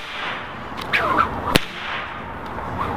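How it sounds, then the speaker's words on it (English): A paracord snake whip gives one sharp, loud crack near the middle, with a couple of softer swishes before it, over a steady hiss of outdoor background noise. "This is a snake whip."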